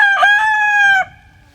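A single homestead rooster gives one loud, close cock-a-doodle-doo with a rising, held call that cuts off sharply, followed by quiet.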